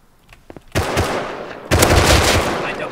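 Gunfire in the survival video game Rust: after faint clicks, two loud bursts of rapid automatic fire ring out close, a pause between them, with voices faintly underneath.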